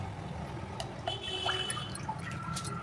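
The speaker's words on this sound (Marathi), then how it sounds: "आता फक्त उडदाची डाळ धुवायला बाकी होती." Urad dal is rinsed in water in a home kitchen while dosa batter is prepared. Faint sloshing, trickling and scattered drips run close by, with no voices.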